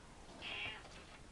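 A single cat meows once, short and fairly close, against a quiet room, with no other sounds around it.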